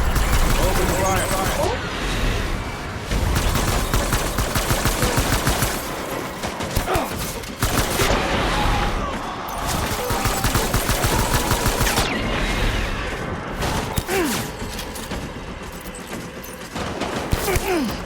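Sustained gunfire in the video game Death Stranding, dense rapid bursts of automatic fire with sharp cracks continuing almost nonstop for about eighteen seconds, with brief lulls and a voice heard faintly in the mix.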